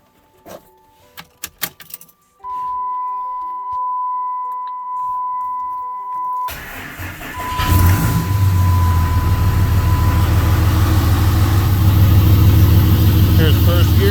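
A 2007 Ram 2500 diesel truck cranks briefly after a few clicks and tones, then catches and settles into a loud, steady diesel idle that runs on alone.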